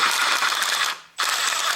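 A ratchet wrench loosens bolts on a Honda Civic drive shaft with rapid, close clicking, breaking off in a short pause before the clicking resumes.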